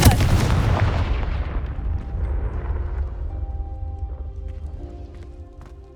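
The Confringo spell cast in the Hogwarts Legacy video game bursts as a loud explosive blast, then trails off into a long rumbling decay with faint tonal game sounds and chimes underneath.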